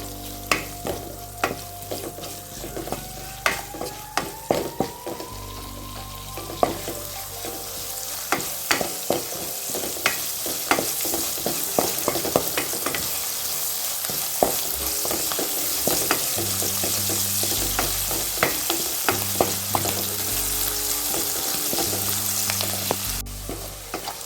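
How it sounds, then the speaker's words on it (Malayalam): Onions with a little salt sauté in a hot pan, a steady loud sizzle broken by frequent scraping and clinking stirs close by, continuous for the whole stretch with no voices. "ഇത് നമുക്ക് നന്നായി ഒന്ന് വഴറ്റിയെടുക്കാം"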